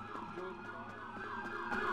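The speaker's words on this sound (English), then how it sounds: "I hear cop sirens." Police sirens from the video game GTA 5 wail on and off without a break, fairly loud and layered over the game's background noise.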